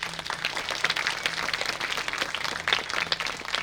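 Sustained audience applause for a parlour maid's entrance in an annual college English play of Shaw's Pygmalion, a dense steady wash of many clapping hands with a faint hum beneath.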